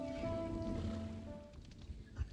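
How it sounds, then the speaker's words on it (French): Water lapping and gentle wave sounds as a boat sets off in the video game Kingdom Two Crowns, Norselands setting, with sustained musical tones underneath and a few soft splashes near the end, fairly quiet. "On va mettre le bateau en route."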